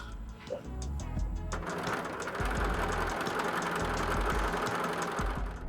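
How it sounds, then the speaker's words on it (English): A sewing machine stitches a line across fabric for an embellished flower book cover, with a steady, close mechanical whir and rapid rhythmic ticking running continuously and fairly loud throughout. "we're going to continue with this line of stitching all the way across."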